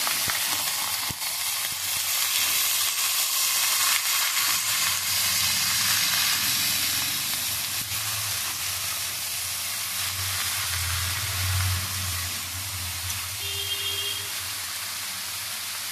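Cauliflower stalks and greens fry in a pan as they are stirred, giving a steady, soft sizzling hiss that runs for the whole stretch with faint scraping of the stirring.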